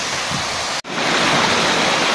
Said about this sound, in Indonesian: Ini spot yang menarik dari Magang Kapalnya adalah air terjun tengkorak